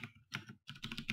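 Quick keystrokes on a computer keyboard, clustered in two short bursts separated by a brief pause, close and fairly quiet with no talking.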